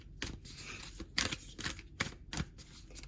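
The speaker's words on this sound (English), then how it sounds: "Now they want me to shuffle more." A deck of tarot cards being shuffled in several quick riffling bursts with short pauses between, close and fairly quiet.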